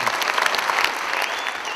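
Brief burst of dense applause from a crowd of young people at a youth summit in Rotterdam's Luxor theatre, loud and steady throughout.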